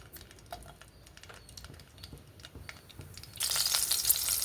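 Green chillies dropped into hot oil in a pan while cooking Andhra-style gongura prawns, a soft crackle with scattered pops that suddenly swells into a loud, bright sizzle.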